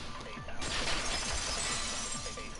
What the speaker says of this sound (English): heard the sound of the window shatter